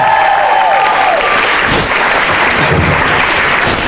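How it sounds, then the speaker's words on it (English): Loud, close applause from a crowd at a weigh-in event, with a brief tonal sweep early on and a steady wash of clapping throughout. "Everybody look back and give her a round of applause from home"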